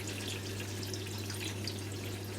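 Water flows steadily into a mechanical water filter housing, a continuous close hiss and trickle over a low constant hum, with no speech.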